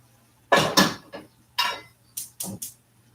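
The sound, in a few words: hot pan being carried over and set down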